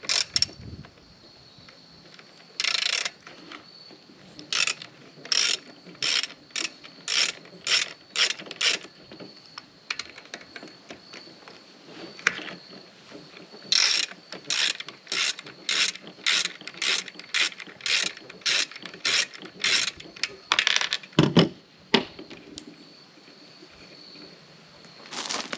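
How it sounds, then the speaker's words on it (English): A ratchet fitted with a 1/2-inch socket works the cover nuts off a chainsaw, giving bursts of quick, crisp clicking in close, repeated strokes with short pauses between them. "to get these two nuts off, it takes a 1/2-inch socket"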